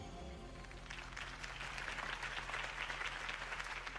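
A crowd in Batman: The Telltale Series breaks into applause, a dense wash of clapping that swells after a quiet opening and holds steady to the end, with faint voices underneath.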